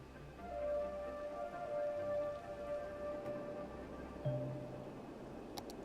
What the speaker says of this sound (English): Once again, it is raining.